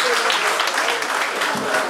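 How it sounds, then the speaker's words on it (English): An audience at a competitive dance concert claps steadily in a short, dense burst, loud and continuous throughout, with some voices blended into the crowd noise. "Clap for us now, at least we try."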